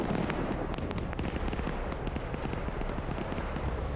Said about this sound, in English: Hearing a barrage of gunshots going on that Huey.